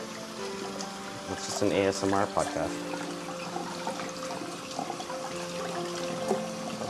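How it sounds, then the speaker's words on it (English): Tap water runs steadily from a faucet while a squeegee is washed, a constant rushing wash beneath a person talking throughout. "I guess I can keep talking with this road while this noisy water is running."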